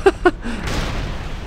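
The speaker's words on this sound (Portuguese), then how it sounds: "O canhão estava armado com uma armadilha explosiva" A booby-trapped cannon blows up inside the Deadmines dungeon in World of Warcraft: two short, sharp pops come first, then a broad, sustained noisy blast rumbles on to the end.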